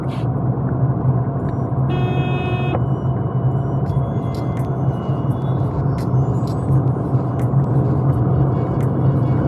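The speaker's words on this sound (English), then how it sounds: "tire noise can be heard inside" Steady low road rumble and tire roar fill the cabin of a 2021 Datsun Redi-Go while driving, with a brief tonal chime partway through and no talking.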